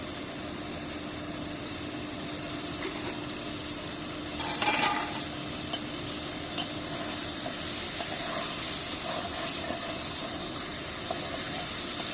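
Soft fish pieces frying in a pan while gently stirred, a steady broad sizzle with one brief louder scrape midway and faint stirring after, close by and without voices.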